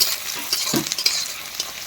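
Onion and garlic cloves fry in a pan, giving a brief soft sizzle with light stirring and utensil clinks.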